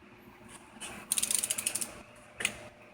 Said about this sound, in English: So grab your torque wrench, set it to 10 pounds,